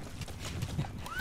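Horse hooves clop in a quick, even rhythm in Metal Gear Solid V, close and moderately loud over a low ambient bed, with a brief rising whistle near the end.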